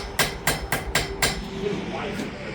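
Hammer blows on hot metal at a blacksmith's anvil, drawing the end out to a chisel tip: four sharp, ringing strikes in a quick even rhythm, then a softer tap or two as the work slows.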